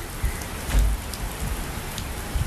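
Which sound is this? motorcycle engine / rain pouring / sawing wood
rain pouring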